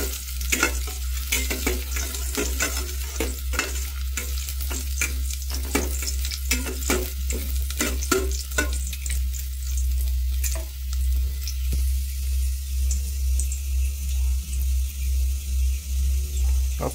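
Ginger frying and being stirred in hot oil for a Filipino papaya-and-sardines dish, a steady sizzle with repeated sharp spatula scrapes and clinks against the pan throughout, close and fairly loud, with no talking.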